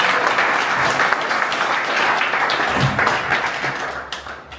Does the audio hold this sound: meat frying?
no